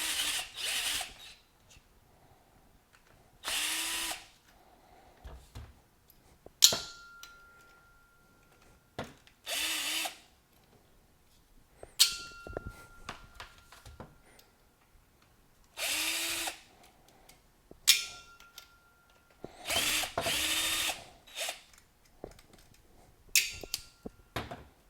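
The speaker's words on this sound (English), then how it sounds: "So we're going to pull these 4 screws instead this time and take a look at the rotor" Bursts of a power screwdriver backing out the four screws on a Griot's Garage 6-inch polisher during a teardown, each whir a few seconds long, loud and close, separated by quiet handling clicks, with no talking.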